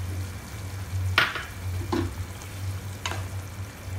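Beans and potatoes with dried kasuri methi and boiled peas are stirred in a pan, three short scraping strokes over a quiet steady sizzle and low hum.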